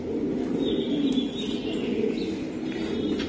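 A racing pigeon coos close by, its low purring call rolling on steadily, with a faint high chirp above it.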